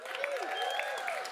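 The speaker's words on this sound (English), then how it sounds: "Amanda Dawson, round of applause." Audience applause at a welcome event for farmers' voices during Sundance 2026, a steady wash of clapping with an overlapping voice tone sweeping through.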